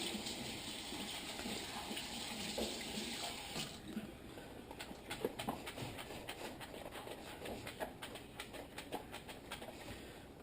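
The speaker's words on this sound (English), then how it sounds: "I'm just going to rinse this thing off here." Tap water rinsing an LG refrigerator ice maker assembly, a steady faint gush of running water in a sink, with splashing and spattering as the part moves under the stream.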